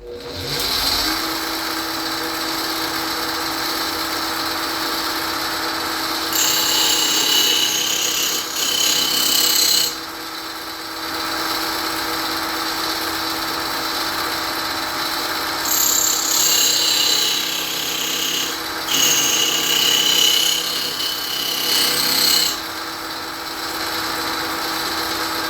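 A super coarse grinding wheel sharpens an axe head, with a steady motor whine and loud gritty rasping bursts as the steel is pressed to the wheel in two long passes, close and without talk.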